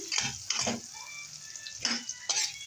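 Garlic frying and browning in a pan crackles in bursts alongside the scrape and clatter of stirring, moderately close, with a faint voice in the background.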